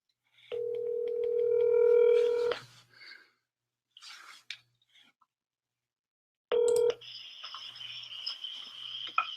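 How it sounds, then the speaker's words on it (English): A telephone call is placed: a steady tone with keypad dialing beeps, a short pause, a few faint clicks, then another dial tone and a ringing tone that carries on to the end, with no voices. "Let's see if he answers the phone."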